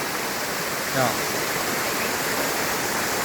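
Steady broadband rush of a jungle waterfall, close and continuous, with a brief spoken word over the roar.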